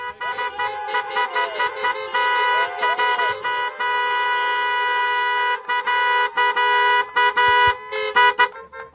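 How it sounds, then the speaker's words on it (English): Many car horns honk repeatedly in overlapping blasts at a rally, some long and some short, loud and close, forming a noisy chorus of tooting. "please join me by honking your horns"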